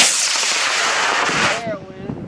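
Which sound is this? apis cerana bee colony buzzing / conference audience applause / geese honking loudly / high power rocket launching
high power rocket launching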